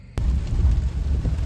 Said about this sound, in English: We have like a snow, hail, rain mix.